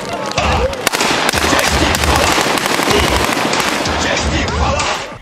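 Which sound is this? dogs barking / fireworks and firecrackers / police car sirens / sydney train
fireworks and firecrackers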